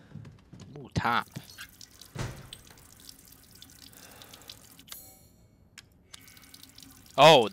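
Water running from a tap inside a video game's haunted doll house, a short splashing burst followed by a longer trickle, with a loud event near the end and soft game sounds underneath.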